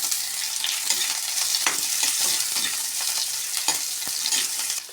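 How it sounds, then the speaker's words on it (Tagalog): Sliced onion and ginger sizzle in hot cooking oil for chicken tinola, a loud, close frying hiss with scraping stirs and clinks of a utensil against the pan, no voices over it. "Mainit na yung mantika, lagay nyo na yung sibuyas. Kasunod ang luya natin."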